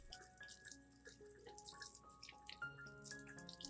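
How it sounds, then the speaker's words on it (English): Clean water runs and splashes softly while Zamioculcas plant cuttings are washed, a quiet, steady trickle broken by small irregular drips and splashes, with no voices. "the first thing you need to do is wash them thoroughly with clean water"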